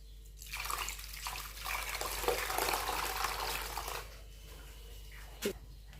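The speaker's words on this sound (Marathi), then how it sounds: "तर यामध्ये आणखीन थोडं पाणी घालायचं" Water pours into pearl millet batter in a soft, continuous stream for about three and a half seconds, then stops, leaving a quiet room and one small clunk.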